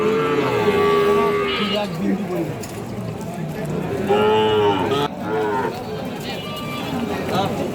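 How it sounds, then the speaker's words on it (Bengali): At a busy cattle market in Dinajpur offering Sahiwal and other breeds of bull calves, several near and far moos rise over a crowded background, with people talking throughout. "আমরা দেখছিলাম খামার উপযোগী বিভিন্ন জাতের বাছুর ষাঁড় গরুগুলি"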